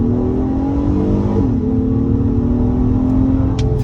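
2022 Acura MDX SH-AWD accelerating hard in sport mode, engine note climbing steadily, dipping briefly at a gear shift and rising again, heard from inside the cabin with no talk.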